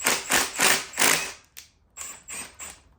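A ratchet loosens engine bolts, short bursts of rapid metallic clicking in quick groups with brief pauses between, close and fairly quiet, no speech.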